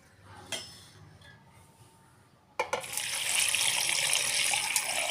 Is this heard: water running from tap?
yes